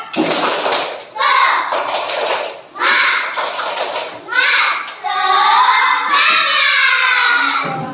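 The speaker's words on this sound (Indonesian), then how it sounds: "Tepuk semangat dulu. Tepuk semangat." A group of children performs a rhythmic spirit chant with clapping in an Indonesian classroom led by an ustaz, loud and close, in several bursts of voices and claps separated by short pauses.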